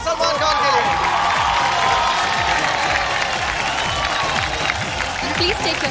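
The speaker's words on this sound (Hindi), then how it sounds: "जोरदार ताली हो जाए सलमान खान के लिए" Loud, dense applause and cheering from a studio audience for Salman Khan at a televised Indian dance competition, a steady roar of clapping with whoops that fills the whole stretch without letting up.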